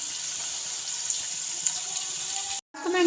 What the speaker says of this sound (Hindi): प्याज को हम थोड़ा सा फ्राई करेंगे।